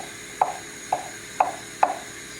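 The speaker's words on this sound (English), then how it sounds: "I'm chopping up the eggs" Four evenly spaced knife chops on a cutting board, crisp and close, slicing through soft boiled eggs.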